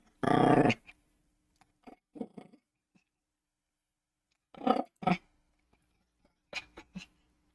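A playful puppy growls close up in several short bursts: one loud growl first, then quieter rumbling growls and brief yips separated by silent gaps.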